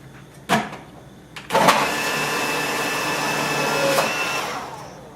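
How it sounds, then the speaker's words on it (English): An electric food processor grinds potatoes. A couple of clunks come as it is loaded, then the motor starts with a sharp burst and settles into a steady loud whirring drone, close by. "We just put the potato in, turn this on, and it grinds them up."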